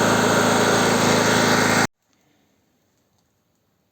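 A NOWA BG 34 petrol generator runs loud and close after its first start, giving a dense, buzzing drone that cuts off abruptly after about two seconds and leaves near silence.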